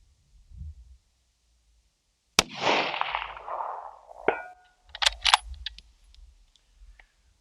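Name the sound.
rifle shot in 7 SAUM fired from a tripod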